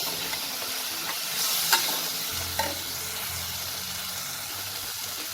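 Tomato chutney being stirred in a pan, a soft steady scraping with a low simmering hiss, a couple of sharper spoon knocks midway, no voices.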